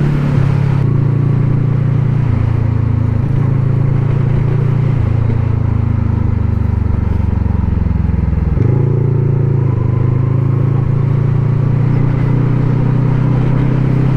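A motorcycle engine drones loud and close while being ridden, a steady low hum that shifts pitch in distinct steps as speed changes.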